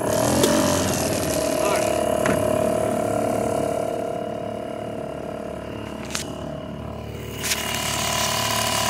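A 1979 Mariner 2 hp outboard motor being started, giving a loud continuous mechanical rattle and hum with a few sharp clicks, while a voice speaks briefly over it.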